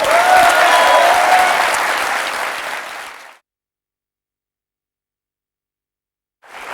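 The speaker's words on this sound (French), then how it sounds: "Je pense qu'on peut applaudir Marca." Audience applause on a French television news-comedy set, loud and dense for about three seconds, fading out into silence before a brief burst of clapping returns at the very end.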